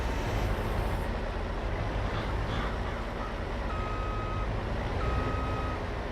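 A Ropa cart in Farming Simulator 22 gives reversing beeps. Two or three short tonal beeps sound at even intervals over a loud engine and machinery rumble.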